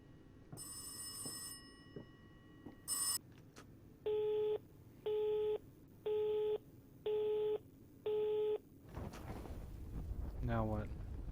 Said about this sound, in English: I gotta go answer the phone.